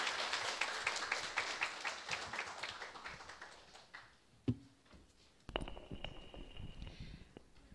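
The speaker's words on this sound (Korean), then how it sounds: "우리 다시 한번 큰 박수 부탁드립니다." Audience applause for a school choir at a Christian school admissions information session, loud and dense at first, then thinning and fading out over several seconds, followed by a single thump and a brief lull.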